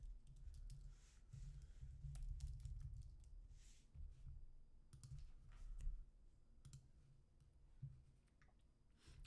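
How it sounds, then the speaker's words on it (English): Computer keyboard typing with a run of quick, uneven key clicks at close range, set over a steady low hum and continuing without a break. "is wrong with my typing today?"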